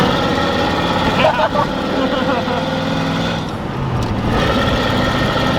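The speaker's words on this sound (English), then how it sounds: "that's what it sounds like when you put an exhaust very similar to that in a diesel" A 12-valve diesel truck fitted with a NASCAR-style exhaust, idling with a steady, deep rumble under people talking nearby.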